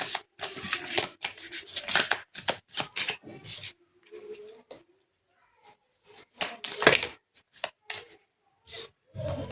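Tarot cards being shuffled in rapid bursts of crisp riffling and slapping, stopping for a pause, then resuming with more flicks and snaps, close and fairly loud without speech.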